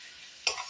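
A fish mixture for crispy lote fish chops is stirred in a pan: near silence, then a short, sudden scrape and sizzle burst close by.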